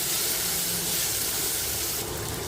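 Chopped capsicum stirred in a hot pan, giving a loud, steady sizzling hiss that runs without a break and brightens slightly near the end.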